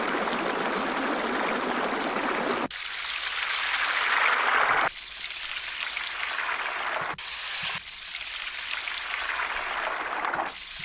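A brook-like flowing water stream sample from a Future Bass Essentials pack, loud, continuous and hissing, plays in several chopped segments with sudden starts and stops.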